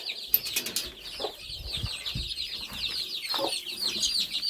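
Small bantam chickens eating greens cluck softly and peck nearby, with a little wing flutter and a steady high chirping in the background.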